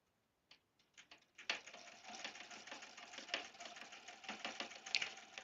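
A sewing machine stitches a seam on a quilted log cabin table runner, with a few short starts and then a steady rapid whir of stitching up close. No voice is heard.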